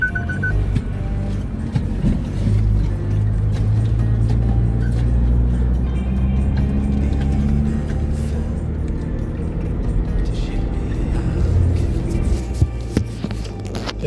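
An off-road vehicle drives forward along a soft forest track, its engine a steady low rumble heard from inside, with knocks and rattles from the body throughout, no talking.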